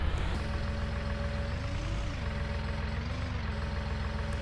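A tractor engine idles in a farming video game with a low, steady diesel rumble, close and continuous, and the pitch wavers slightly as the engine revs.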